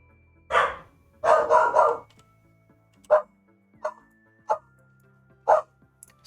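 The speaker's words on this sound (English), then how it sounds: "Sorry about the dog." A dog barks indoors in the background, first a few quick clustered barks, then single spaced barks at uneven intervals, moderately loud over faint room hum.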